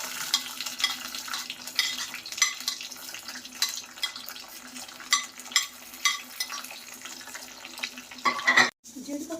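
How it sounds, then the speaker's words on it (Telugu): Cashews frying in about two tablespoons of hot oil, crackling and sizzling steadily up close with repeated stirring scrapes in an irregular rhythm, ending in a brief louder clatter. "అది వేడెక్కిన తర్వాత కొంచెం జీడిపప్పు వేసుకోవాలి."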